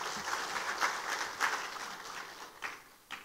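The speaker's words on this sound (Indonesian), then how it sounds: "Boleh tepuk tangan untuk Indonesia." Audience applause after a call to clap for Indonesia at a speech event on ending rice and sugar imports; steady clapping of a crowd, moderately distant, rising and falling in short swells over a few seconds.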